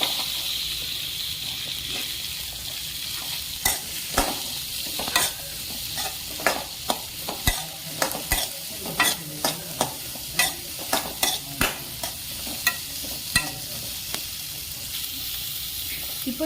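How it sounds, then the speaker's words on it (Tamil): Onion and capsicum sautéing in butter in a pan for pizza give a steady hiss and sizzle, with a spoon repeatedly scraping and clacking against the pan in an uneven rhythm, close and clear. "அதில் நம்ம இப்போ வெஜிடபிள்ஸ் சாட்டே பண்ணிக்கலாம்."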